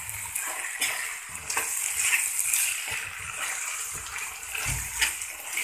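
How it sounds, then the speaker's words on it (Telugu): A spoon stirs a spiced chikkudukaya (flat bean) and tomato curry with chili powder, coriander powder and garam masala in a hot pan, giving a continuous wet scraping sizzle, close and fairly loud, with no talking. "వేసేసి ఒకసారి కలిపేసి"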